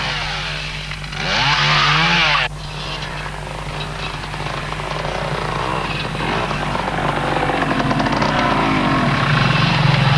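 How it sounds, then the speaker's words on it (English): A chainsaw cutting fallen trees on a mountain trail roars loudly for a couple of seconds, then cuts off, leaving a steady engine drone and rustling outdoors. "a trail bike rider like this one, complete with chainsaw, clearing away fallen trees"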